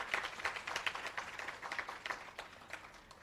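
Audience at an employee service awards ceremony clapping in a moderate, fairly quiet room, with distinct individual claps forming a loose, pulsing rhythm for a few seconds.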